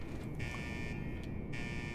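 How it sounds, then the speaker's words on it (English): A looping alarm in Fallout 4's Far Harbor content buzzes in steady high-pitched bursts, cutting in and out several times over a constant low background rumble. "alarms are never a good thing"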